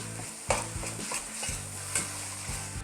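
Two pounds of ground turkey browning in a soup pot, with a steady sizzle and repeated scraping stirs of a utensil against the pan, heard up close with no voices.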